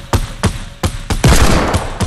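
Fortnite gunfire cracks out as four sharp, loud shots spaced roughly a third of a second apart, followed by a denser burst of rapid fire with a lingering, noisy tail.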